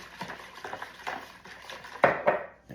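A spoon stirs a young coconut mixture for tupig in a bowl, giving soft, irregular scraping and clinking strokes that are quiet and close, with a firmer scrape toward the end.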